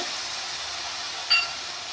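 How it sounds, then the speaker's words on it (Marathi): Water poured into a hot phodni tempering for Maharashtrian poha: a steady, fairly loud hiss of sizzling and steam, with a brief sharper flare partway through. "आता त्या फोडणीतच आपण पाणी टाकून घेतोय."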